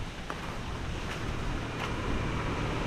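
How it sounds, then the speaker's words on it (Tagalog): Steady gusting wind roars with a hiss of rain underneath, broad and continuous, buffeting the microphone with no voices, as a nearby typhoon brings gusty wind and rain. "Bugso-bugso ang hangin na may kasamang pag-ulan."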